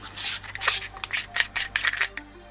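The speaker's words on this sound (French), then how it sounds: "Pour accéder au module blaster, on dévisse ici." The blaster module of an AceTech Raider airsoft unit is unscrewed by hand, giving a close series of about eight short, rhythmic scraping and rubbing turns with brief pauses between them.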